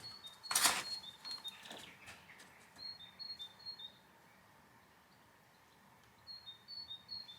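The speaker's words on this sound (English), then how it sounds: "I love listening to the birds." Birds chirp in short, faint bursts with quiet gaps between, set against a soft outdoor background.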